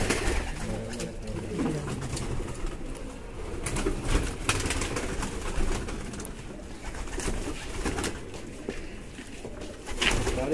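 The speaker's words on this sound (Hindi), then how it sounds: "मैं ना कबूतर अंदर से लेके आता हूँ वो वाइट" White pigeons cooing softly amid a steady outdoor background hum, with faint rustling and a few brief wing flutters.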